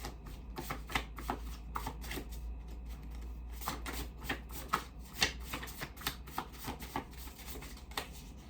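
Oracle cards being shuffled by hand, a continuous rapid run of crisp card slaps and riffles, close and fairly loud, with no voice.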